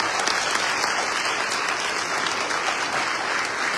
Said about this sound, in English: That hand clap is not enough.